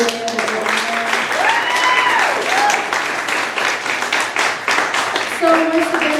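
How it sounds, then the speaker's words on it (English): Audience applause, a steady wash of many hands clapping throughout, with a voice speaking over it and a couple of brief tonal sweeps. "We give a round of applause to 3 brave women."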